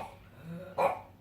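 A single short dog bark or yip rises near the end of a quiet indoor moment, close and brief, after faint background murmur.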